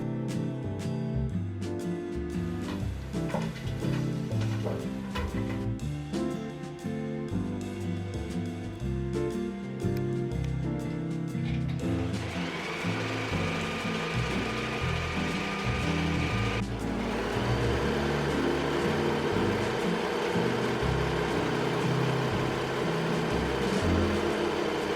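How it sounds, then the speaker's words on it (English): A serger overlocks the edges of curtain fabric, its needles running in fast rhythmic mechanical chatter with short bursts, pauses and a steadier whirring stretch later, close and without talk. "First step is we're gonna serge all of our edges."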